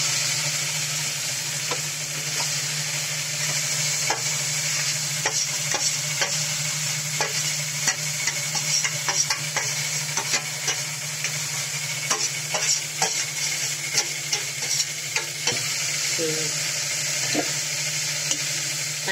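Grated carrots fry and sizzle in hot ghee with cardamom for gajar ka halwa. A steady hiss runs throughout, with frequent scraping clicks as the mixture is stirred in the pan, close and clear with no talking.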